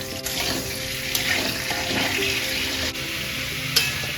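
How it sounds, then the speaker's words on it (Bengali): Potatoes frying in hot oil in a wok give a steady close sizzle with a few clinks of stirring throughout. "তেল গরম হয়ে গেছে এবার আলুগুলো এখানে দিয়ে দেবো আস্তে আস্তে এটা ভাজা হতে থাক"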